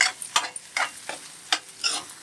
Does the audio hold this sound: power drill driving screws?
no